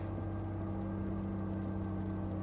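Truck engine in Euro Truck Simulator 2, a steady low diesel hum with strong droning harmonics, held evenly and fairly loud for a couple of seconds with no talk.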